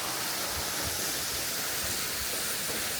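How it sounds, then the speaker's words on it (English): Waterfall beside an ice cave on a hiking trail, a steady, broad rushing roar of falling water, loud and constant with no pauses, and no voices over it. "Waterfall."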